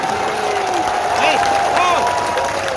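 A crowd claps continuously at a political election rally in India, under a loud, warbling voice and background hubbub, dense and sustained.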